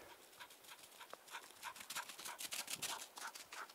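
A hunting dog searching for hare pants in quick, rapid breaths close to the microphone as it runs ahead through brush, faint overall and without any talk.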